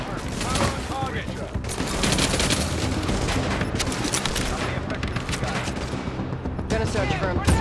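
Sustained bursts of gunfire in Tom Clancy's The Division on PS5, dense overlapping shots and fusillades filling the whole stretch at high level, with shouted voices mixed in among the combat.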